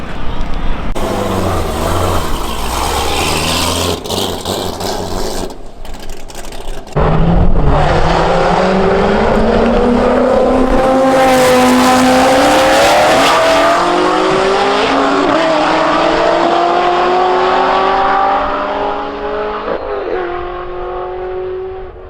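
A 1,250 hp C6 Corvette ZR1 with a Kong 2650 supercharger and nitrous at a Tx2K23 drag event roars loudly, launching with tire noise and then revving hard through rising gear pulls, loud and close as it accelerates away.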